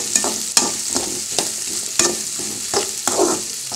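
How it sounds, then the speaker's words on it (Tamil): Bottle gourd being sautéed in a pan for a dried fish curry, with a steady sizzle broken by repeated scraping stirs about every half second to second, close and moderately loud with no talk. "போட்டு நல்லா வதக்கணும்"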